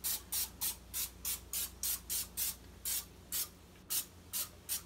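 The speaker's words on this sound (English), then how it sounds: "Spray a little bit of Pam on them" Pam cooking spray being spritzed onto a whole chicken before smoking, a steady series of short, even hissing bursts, about a dozen in quick rhythm, close and fairly quiet with no talking.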